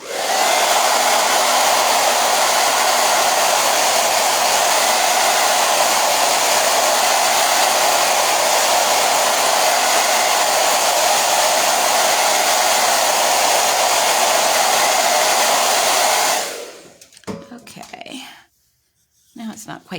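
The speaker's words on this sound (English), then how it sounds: "So pardon the dryer here for a minute." Hair dryer blowing steadily on wet dot-art paint on a petal swirl mandala design, a loud continuous whooshing roar that runs for most of the clip before cutting off, leaving brief faint handling noises.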